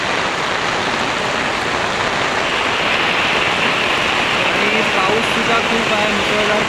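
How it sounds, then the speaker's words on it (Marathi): Heavy monsoon rain pours down along the Mumbai-Goa highway near Khed, a dense, loud, unbroken hiss of downpour filling the whole stretch. "पाऊस आहे पाऊस जोरात आहे"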